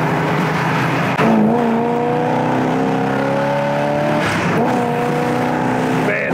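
A 4-speed Ram Air muscle car's engine rumbles loudly nearby, its pitch rising and falling as it revs and settles, with a brief jolt partway through.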